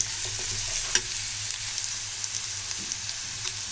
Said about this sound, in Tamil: இப்போ இந்த வெங்காயம் வந்து நல்லா வதங்கணும்